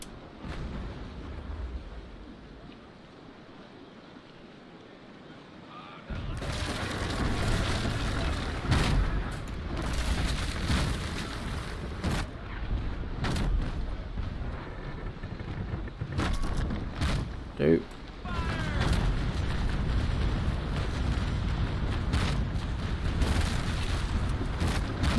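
Heavy naval cannon broadsides from a sailing warship in the game Naval Action, a rolling series of deep booms and blasts that starts abruptly after a quiet stretch and continues densely, loud and close.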